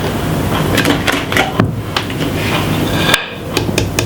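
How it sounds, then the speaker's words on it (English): A whisk beats ingredients in a kitchen bowl, producing a string of quick, close metallic clicks and knocks against the sides with a brief pause near the end. "Give it a lovely whisk."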